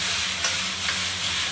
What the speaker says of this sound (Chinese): 一起在锅里炒一下